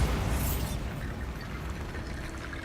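A Bombarda blast spell in Hogwarts Legacy bursts with a loud, broad rumbling boom at the start, then fades into a sustained low, crackling roar of debris and echo.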